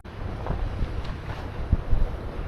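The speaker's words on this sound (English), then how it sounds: "We had just gotten a gust that went across this field" A wind gust sweeping across an open snowy farm field, a steady broad rushing roar buffeting the microphone, with a few rougher bursts near the end and no talk.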